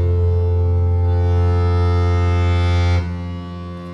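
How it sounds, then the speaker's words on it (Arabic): A studio synthesizer holds a loud, steady, droning tone rich in harmonics, which drops abruptly in level near the end. "ده صوت السينثيتايزر."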